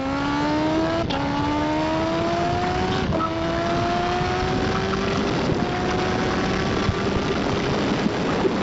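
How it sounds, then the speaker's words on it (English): Kawasaki Ninja H2 supercharged sport bike engine revving steadily at close range, its rising pitch broken by a few quick gear shifts, loud and continuous with no talking over it. "We are on the dirtiest of the dirtiest Kawasaki Ninja H2."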